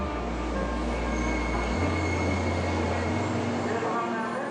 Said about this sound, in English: This is the bullet train for Kyoto.